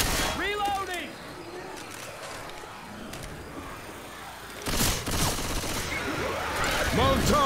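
Gunfire in Left 4 Dead 2 cracks out in scattered bursts among zombie-fighting chaos, with a louder volley near the middle, under excited voices calling out to one another.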